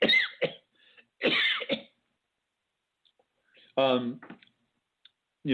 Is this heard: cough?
yes